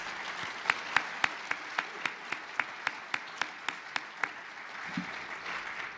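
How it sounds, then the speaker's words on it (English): A crowd applauds in a steady wash of clapping, with sharp rhythmic claps standing out near the front. "A round of applause for Alan Lowe."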